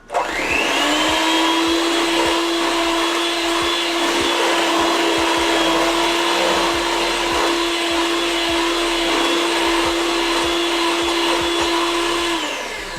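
An electric mixer runs on high speed through lemon cake batter, a loud, steady motor whine that spins up at the start and holds unbroken for the whole stretch before easing slightly at the end.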